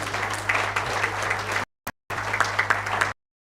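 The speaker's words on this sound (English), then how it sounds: "I would like a round of applause for them, please." Audience applause at a valedictory function for a mega health checkup record event, dense sustained clapping from a large crowd with a steady hum, cut by two abrupt silent gaps.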